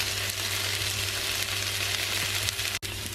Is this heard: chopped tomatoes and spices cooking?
yes